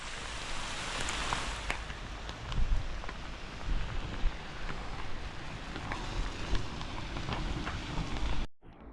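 Heavy monsoon rain in the Konkan region falls steadily as a dense, even patter with scattered louder drops, continuing without a break before cutting off abruptly at the end.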